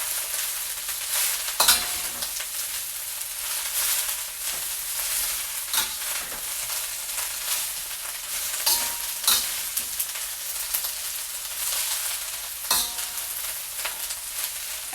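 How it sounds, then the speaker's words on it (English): Vegetables or meat stir-fried in hot oil in a pan, a steady bright sizzle with scraping stirs and occasional louder crackles, close and continuous with no talking. "you put the vegetable or meat into the pot, the pan, and you keep stirring it"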